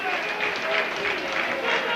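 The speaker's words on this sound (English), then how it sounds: "Alec Murphy getting a brilliant round of ovation here from the St Helens crowd." A St Helens rugby league crowd at a 1988–89 Stones Bitter Championship match against Featherstone Rovers gives steady, sustained applause and crowd noise, continuous and moderately loud throughout.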